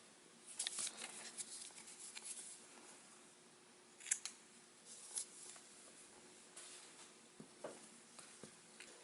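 Scissors snip through crochet yarn while a lace-up corset is being made, giving faint, close, brief crisp cuts and small rustles over a quiet hiss, without talk.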